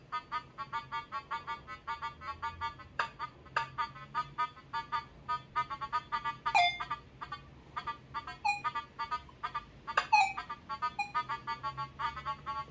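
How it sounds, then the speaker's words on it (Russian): Metal detector set to 4 kHz sounding off over a silver coin, a series of repeated bright electronic beeps in quick pulsing bursts, fairly faint and close, with a few sharper chirps mixed in and no talking. "Вот как звучит наша серебряная желанная монетка."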